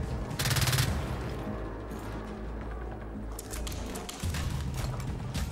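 Enforcer submachine gun firing in the video game Gears 5, with a rapid burst of automatic shots near the start followed by scattered, more distant gunfire amid game background noise.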